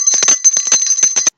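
Bright ringing bicycle-bell style notification chime, a rapid string of about ten metallic dings close and loud, stopping abruptly.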